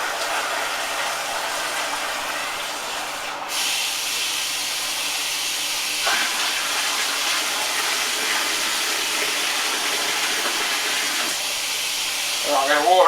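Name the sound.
cold water running into a home brew container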